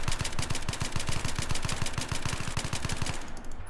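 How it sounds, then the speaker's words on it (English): An F2000 rifle tap-fired in Battlefield 3, with rapid evenly spaced gunshots in a steady burst lasting about three seconds before cutting off. "Okay, so now I'm gonna tap fire it, and I'm not gonna do any recoil control"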